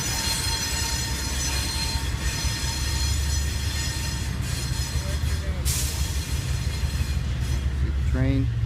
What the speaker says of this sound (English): there's a train right next to train tracks over here.